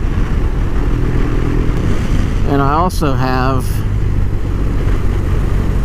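BMW R 1200 RS motorcycle with a Remus full exhaust system, a steady engine drone running throughout while someone talks briefly over it.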